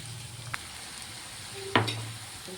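Sliced onions and bitter gourd frying in a pan: a low, steady hiss with two brief utensil clanks against the pan, one sharper and louder near the end, with no talking.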